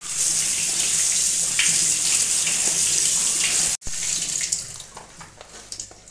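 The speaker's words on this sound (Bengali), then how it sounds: "এখন আলুগুলোকে ধুয়ে নেব।" Cut potatoes being rinsed under a running kitchen tap: a strong, steady stream of water splashing, then a brief break and softer, intermittent sloshing as the pieces are swirled and handled.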